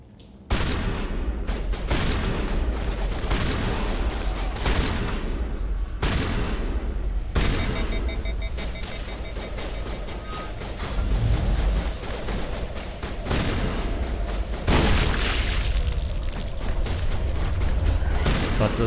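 Sustained gunfire and combat noise in Mass Effect Legendary Edition, with dense crackling shots, mechanical clanks and booming impacts that keep going for nearly twenty seconds at a fairly loud, constant level.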